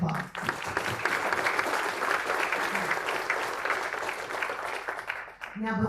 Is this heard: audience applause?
yes